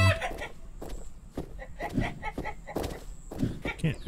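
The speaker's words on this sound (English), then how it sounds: "Chicken equals food." Chicken clucking in the PC survival game Survival Simulated, several short clucks repeating through the clip over a busy game soundscape.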